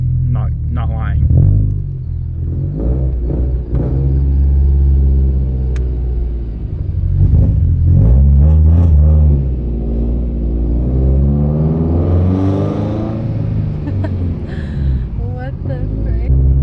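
A built Subaru STI fitted with a turbo kit revs and accelerates in loud, rising engine pulls, heard from inside the car with excited voices talking over the rumble.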